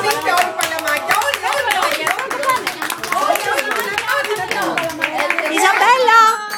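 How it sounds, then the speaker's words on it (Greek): Children and guests at a birthday party clap their hands in loose, uneven rhythm while voices chatter and call out over the clapping, close and lively throughout. "Για χτυπήστε όλοι παλαμάκια"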